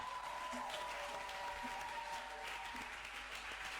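A church congregation applauds at a Sunday service, steady sustained clapping throughout at modest level, with a voice and faint tonal sounds underneath.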